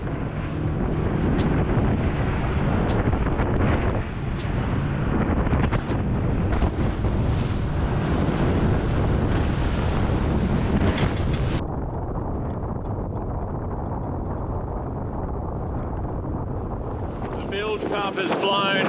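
Wind buffets the microphone hard as a boat pounds through rough sea on the run home off a Great Barrier Reef island, a loud, steady roar of wind and rushing water with no talk.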